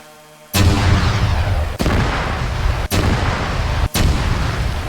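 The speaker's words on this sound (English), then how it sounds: "We get to drop some demining bombs on mines." Demining bombs dropped on mines in the video game Arma 3 go off as four loud, sharp explosions spaced about a second apart, each followed by a dense roaring rumble that fills the gaps between blasts.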